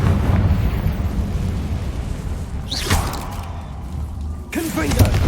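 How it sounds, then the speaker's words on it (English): A Confringo fire spell bursts in Hogwarts Legacy, a deep rumbling explosion with whooshing swells amid steady game background noise, with brief voice fragments. "Confringo"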